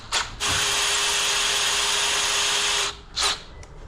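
Cordless power drill with no hammer function boring into a hard surface: a brief spin-up, then a loud, steady whine held for over two seconds, followed by a short second burst, with no talk.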